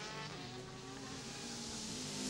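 Porsche and Chevrolet GT race cars race at Mosport in the 2012 ALMS, heard as a faint, distant engine drone that rises in pitch and swells slightly toward the end.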